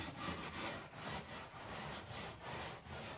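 Scrubbing stripper off the hull of a 1950 Chris Craft U22 boat with a pot scrubber, heard as a continuous coarse rasping that pulses in steady back-and-forth strokes, close up with no talking.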